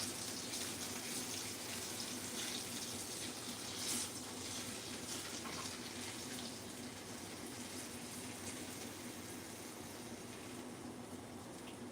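Liquid draining in a kitchen sink, a steady rushing, gushing flow of water that holds constant and fairly loud for the whole stretch, with no talking.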